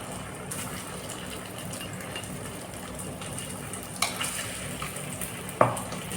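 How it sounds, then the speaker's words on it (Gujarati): Soaked fenugreek seeds roast in a pan over a low flame, giving a steady soft sizzle with occasional stirring scrapes and a couple of sharper utensil knocks, close by and with no talk. "હવે એને આપણે ધીમા તાપે શેકી લેશું"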